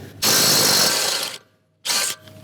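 Power tool spinning a 21 socket to remove the bottom shock nut on a RAM 1500 DT during a suspension lift install, two loud close whirring bursts, the first longer, separated by a brief pause.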